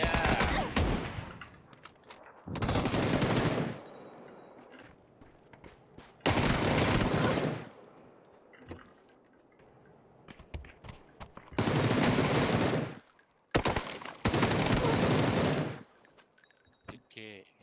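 Loud bursts of automatic gunfire from a video game come in four long volleys, each lasting a second or two. Scattered single shots and quieter sounds fill the gaps between them.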